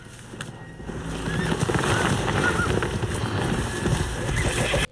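A horse whinnies in a TV drama scene from The Last of Us, heard over a dense bed of wind, hoofbeats and background rumble that stays loud throughout.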